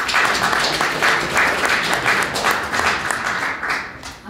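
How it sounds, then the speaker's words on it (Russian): An audience at a blockchain hackathon event bursts into loud, sustained applause, dense clapping that stays strong for several seconds and tapers slightly toward the end. "А бурные аплодисменты, пожалуйста"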